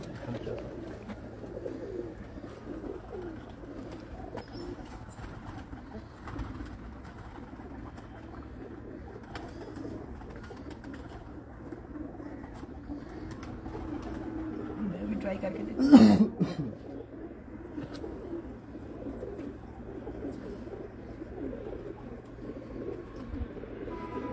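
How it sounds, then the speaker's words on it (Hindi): Pigeons on a rooftop coo softly in the background, with a brief louder burst partway through, beneath a steady low hum and ongoing conversation. "एक कबूतर हमारे पास हैं जी ये चालीस नंबर जो है ना उनके तस्वीर वाले कबूतर"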